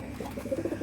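Pet pigeons cooing close by, a short run of soft, low, pulsing coos repeating in quick rhythm.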